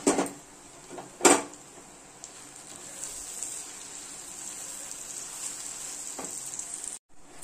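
Poppy seed paste with onion, sugar and salt cooks in a pan, giving a steady, soft sizzle close by, broken early by a couple of sharp clatters from utensils before the sound cuts off near the end.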